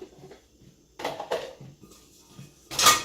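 Pots being handled and set into a dishwasher rack, a series of light clinks and hollow knocks with a louder metallic clatter at the end, fairly close.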